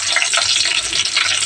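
Garlic, onions and cumin frying in hot oil, a dense steady hiss and crackle of sizzling with faint stirring, close and continuous for the short stretch.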